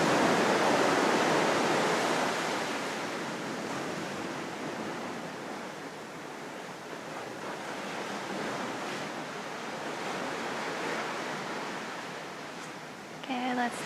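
Ocean waves wash onto a beach during an outdoor yoga session, a steady broadband surf roar that is loudest at the start and then settles into a continuous rushing wash.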